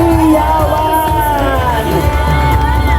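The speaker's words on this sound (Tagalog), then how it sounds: "isang malakas na hiyawan at palakpakan" Crowd at a parade of government employees and groups, shouting and cheering loudly and continuously, with whoops and children's shouts in a dense, steady roar close by.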